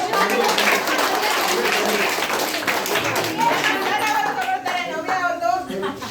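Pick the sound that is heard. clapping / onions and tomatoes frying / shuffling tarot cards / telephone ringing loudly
clapping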